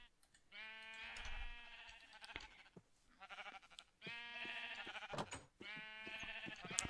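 Blocky sheep in the Minecraft video game bleating in repeated drawn-out calls, three or four clear bleats alongside faint game clicks, with no talk over them.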